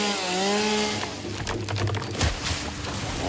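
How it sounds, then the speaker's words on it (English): A chainsaw runs in the video game Satisfactory, its engine buzzing steadily and revving through the clip, with a brief whining tone at the start. "Now look at me, dangerous, running around with a freaking chainsaw."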